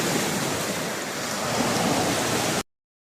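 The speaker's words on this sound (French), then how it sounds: "Tout au long de nos journées, on entend ça, les vagues." Ocean surf rolling pebbles on a Gaspésie shore: a dense, steady hiss and rumble of breaking water and shifting stones, close and constant, cutting off abruptly near the end with no talking.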